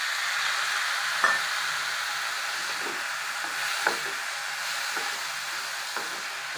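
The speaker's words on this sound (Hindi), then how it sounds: "इसको 3 से 4 मिनट इसी तरीके से चलाते हुए पकने देंगे।" Chopped vegetables, including carrot and tomato, cooking in a pan, with a soft steady sizzle and a few light scrapes and taps of stirring, quiet and close with no talk.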